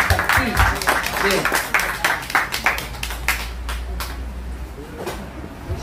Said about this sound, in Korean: 뜨거운 박수입니다